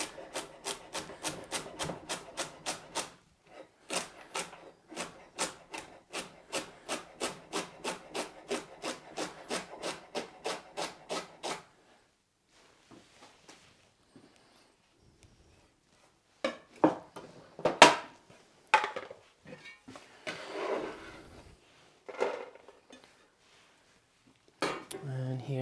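A knife chopping celery finely on a cutting board: a quick, steady run of close, crisp taps for about twelve seconds, then quieter with a few scattered knocks and handling sounds, with some talk.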